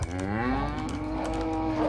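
A cow in the video game The Cows Are Watching lets out a long, loud, low moo that swells and holds for nearly two seconds over a soft background.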